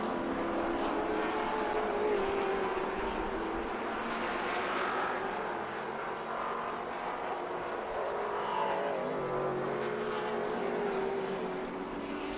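Trans Am TA2 race cars run at speed around Barber Motorsports Park, a dense continuous engine roar with rising and falling pitches as several cars pass, heard at a distance without speech.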